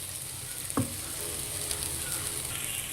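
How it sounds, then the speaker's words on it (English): Tamarind juice is poured into a pan of Sri Lankan fish curry, with a sharp splash early on and then a steady sizzle and frying hiss. "I'm adding the tamarind juice right now"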